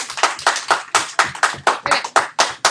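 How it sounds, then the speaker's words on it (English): Students in a classroom applaud in a fast, even rhythm. Roughly a dozen crisp, close claps land at a steady pace, with no talking. "Everybody give yourselves a round of applause."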